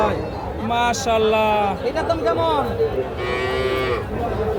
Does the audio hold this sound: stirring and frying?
no